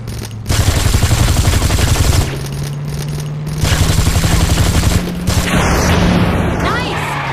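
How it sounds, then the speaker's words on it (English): Sustained automatic gunfire in Gangstar Vegas, a chase where a passenger shoots at pursuers from a moving car, rattling loudly in long bursts over an engine drone with short pauses between volleys. "take this gun and shoot at the assholes behind us while I drive"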